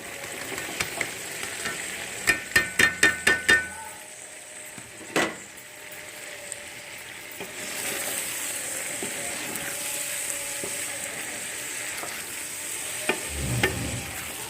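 Potato, pea and carrot curry with fenugreek stirred in a pan, a few sharp spoon taps on the rim at first, then a steady soft sizzle of frying, fairly quiet and close.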